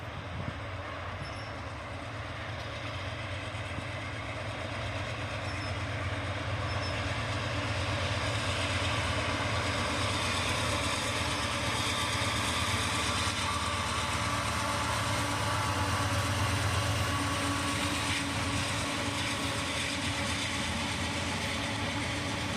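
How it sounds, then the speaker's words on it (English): A train led by a single locomotive crosses a river bridge, a continuous rumbling roar with steady wheel and engine noise that builds slightly and holds for over twenty seconds at moderate distance. "we did catch this one coming across the bridge as we waited"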